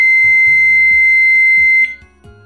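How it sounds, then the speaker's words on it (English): A loud, steady electronic tone from an Ultrak SG-10 timer sounds for about two seconds as a break countdown starts, then cuts off, leaving brief faint low thumps. "The break time countdown starts right away alone, with a 2-second long beeping sound."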